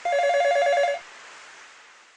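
A telephone in the anime She and Her Cat rings once with a bright electronic trill for about a second, then cuts off into a soft fading room hiss.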